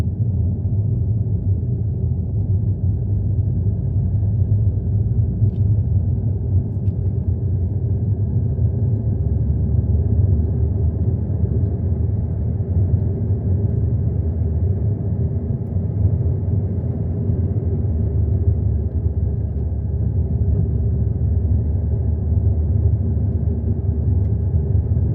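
A car descends slowly along a mountain road from Juvasshytta, its engine and tire noise a steady low rumble throughout, heard close from inside the vehicle with no one talking.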